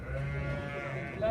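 Sheep bleat up close at a busy livestock market, a steady stream of overlapping calls from the flock, loud and continuous against the crowd noise.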